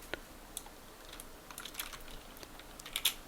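Computer keyboard keys, including the spacebar and F key, tapped during 3D modeling work: a few quiet, irregular clicks that grow slightly denser toward the end, with no talking.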